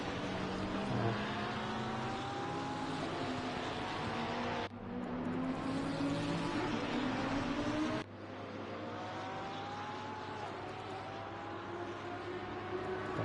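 Several Porsche GT3 race cars duel in Assetto Corsa Competizione at Brands Hatch, their engines droning and rising through the gears in a steady, loud wail that sweeps up and down as they run close together.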